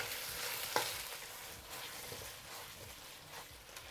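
Bok choy stir fry with cornstarch sauce and anchovies is stirred in a wok, a soft wet sizzle with scraping and tossing, one sharp clank of a utensil early on, fairly quiet and without talking.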